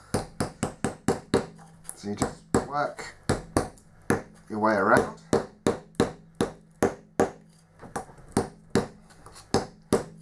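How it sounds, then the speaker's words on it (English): Steady run of sharp hammer blows striking a 3D-printed dungeon tile stamp, sounding in quick regular bursts up close, with someone talking over and between the strikes. "Hit it with a hammer."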